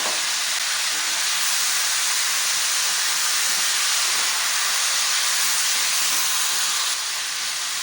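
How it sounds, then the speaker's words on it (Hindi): Mutton cooks with garlic ginger paste in a pot, a steady loud hiss and sizzle that continues unbroken for the whole stretch, with no voices. "अब हमने गोश्त को लहसुन अदरक के साथ अच्छी तरह से पकाना है।"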